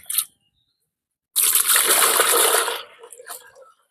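Liquid containing Trichoderma is poured onto a plant in an outdoor garden, making a loud, splashy trickle for about a second and a half that then tapers off. A brief knock comes before it.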